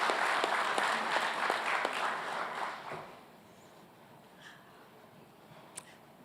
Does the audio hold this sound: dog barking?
no